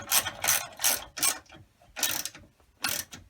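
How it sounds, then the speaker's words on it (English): A ratchet wrench clicking in short bursts as it re-tightens the motor mounting bolts on a Sole treadmill, five or six quick ratcheting runs separated by brief pauses, close and clear with no talking. "we're just going to go back here and re-tighten all four of these motor bolts"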